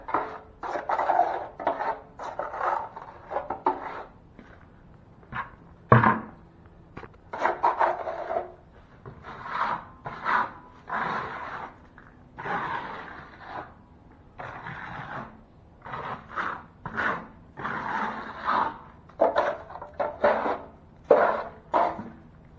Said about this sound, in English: He needs to just mix a little more to finish off that area.